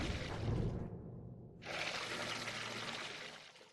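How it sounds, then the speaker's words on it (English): Stinky liquid pours into a container in the adventure game The Book of Unwritten Tales: a quiet rushing splash, a brief silent gap, then a second longer stream that tapers off. "I filled the container with that stinky liquid."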